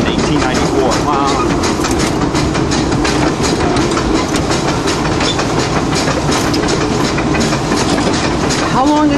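Disneyland Railroad locomotive number 3, built by Baldwin in 1894 and recently rebuilt, running with loud continuous rumbling and rhythmic rail clatter heard close from the cab, with brief squeal-like tones and voices talking underneath.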